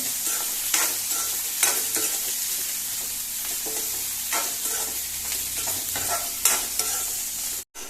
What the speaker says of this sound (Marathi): आनी हे कांदो घालता। बरो फ्राय जावनी।